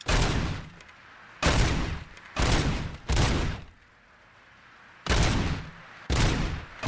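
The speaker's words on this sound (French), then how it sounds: "Heureusement que mon flingue il mitraille maintenant." Automatic gunfire from a weapon in the RoboCop: Rogue City video game, heard as six loud, separate bursts of rapid shots. Each burst lasts about half a second, and there are short pauses between them.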